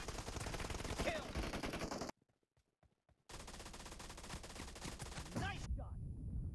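Rapid automatic gunfire in the video game PUBG Mobile, dense and loud, with a sudden silent gap midway before the bursts resume, plus brief voice callouts over the shooting.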